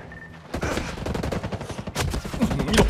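Rapid gunfire in the video game Ghost Recon Breakpoint, dense bursts of shots cracking close and loud in quick succession after a short quiet start, with bullets tearing through trees.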